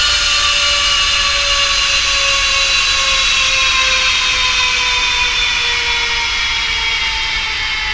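Carenado Falcon 50 jet engines spooling down in X-Plane 11, a loud continuous whine with tones that slowly fall in pitch over a steady roar, heard alone without talk.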